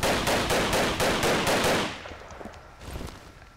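Rapid machine-gun bursts from the AustroXD Double Action video game ring out loud and dense for about two seconds, then drop to a few quieter scattered shots.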